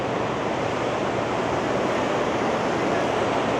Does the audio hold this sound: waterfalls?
yes